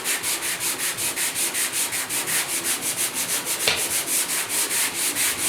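Body filler on a 1972 Ford 4x4 truck door is hand sanded with 150-grit paper, making steady, even back-and-forth strokes at a quick, regular pace, close and alone.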